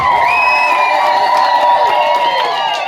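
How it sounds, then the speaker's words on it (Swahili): A church congregation cheers and shouts together in praise of Jesus, with loud, sustained crowd voices and whoops filling the space throughout, and some clapping mixed faintly underneath. "Shangilia tena Yesu kwa makofi"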